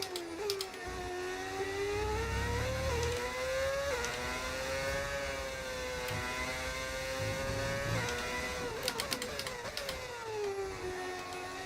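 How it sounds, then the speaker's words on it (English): Formula 1 car engine in the F1 25 racing game, a loud high-revving whine that rises and falls in pitch through gear changes and corners, with a few sharp clicks near the end. "Great engine sound, by the way."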